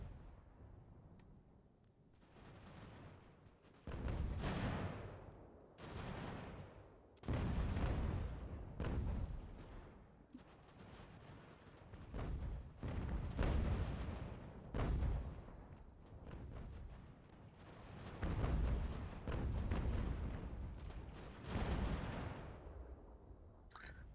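Cannon artillery fire in an American Revolution strategy game, with deep booms in irregular bursts every few seconds, some clustered, set against a low background rumble of battle.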